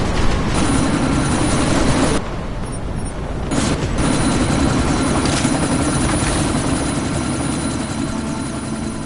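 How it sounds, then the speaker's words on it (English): Loud, steady helicopter rotor and engine drone from a chopper in the video game Deus Ex Mankind Divided, set during a sandstorm, continuous with a brief dip in intensity partway through, with no talking. "you need to disable that chopper."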